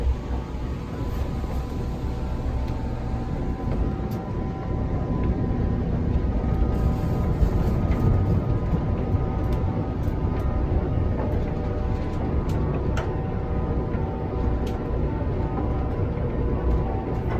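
A motorized roll-off roof on a small observatory rolls shut in a steady, continuous low rumble with a faint mechanical whine, even and unbroken from start to finish, heard from inside the building.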